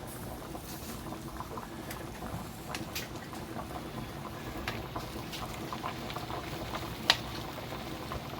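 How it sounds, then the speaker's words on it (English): Sausages simmering over lowered heat in a pan for bangers and mash, a steady soft bubbling and sizzling texture that stays even throughout with one brief sharp tick near the end. "we're going to let these sausages simmer, because we'll turn the heat back down"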